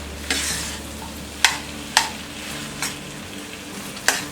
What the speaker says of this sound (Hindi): हम इसे 2 मिनट तक लो फ्लेम में फ्राई करेंगे।